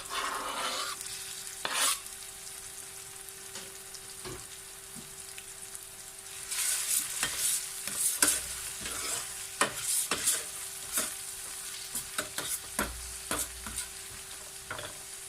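Tomato masala with green chili and coriander fries in oil for dhaba-style chana dal, a close, steady sizzle punctuated by repeated scraping strokes and clinks of a spoon stirring in the pan.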